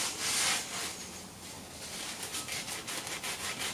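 Sandpaper of 1000 grit rubs back and forth against an engine crankshaft, a raspy scraping that swells loud at the start, then continues in quicker, even strokes close to the microphone.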